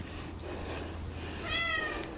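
A Siamese cat gives a short meow near the end, moderately close, over a low hum of room noise with no talking.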